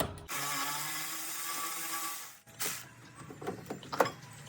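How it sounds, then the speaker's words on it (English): An electric wrench spinning out a brake bolt on a 2015 Ford Escape, a loud close whine lasting about two seconds, followed by clanks and rattles of parts being handled. "switch to my electric wrench again."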